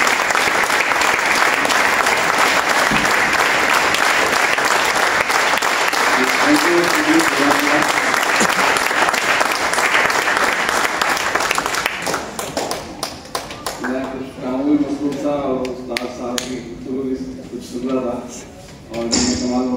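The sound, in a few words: audience applause at seminar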